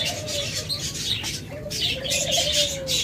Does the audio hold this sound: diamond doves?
yes